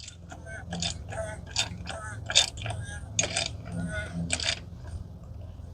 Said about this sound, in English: we'll just use our ratchet to get it set